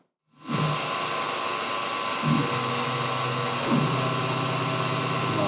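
A CNC mini mill cuts a left side cover for a Yamaha XV1000 starter linkage. A loud, steady machining whine with a dense broadband hiss starts abruptly and holds, with slight shifts in tone partway through.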